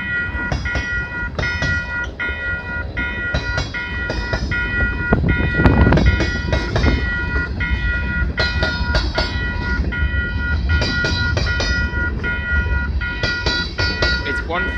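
Loud freight train rumbling past close by in London, Ontario, wheels clattering over rail joints with squealing metal tones, continuous and heavy.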